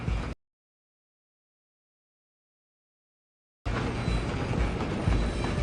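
A train rolls past in the video game Red Dead Redemption 2, a loud, close rumble with rhythmic rail clatter. It breaks off abruptly into silence for about three seconds, then returns at full strength.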